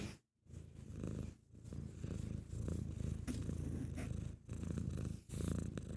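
A cat purrs steadily and close up while being petted, a low rhythmic rumble broken by short pauses between breaths.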